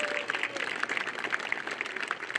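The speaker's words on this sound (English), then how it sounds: "One more round of applause for all of our Symphonic Band members" Audience applause for symphonic band members at a school band farewell concert, a moderate, steady patter of clapping heard somewhat distant with faint crowd murmur beneath.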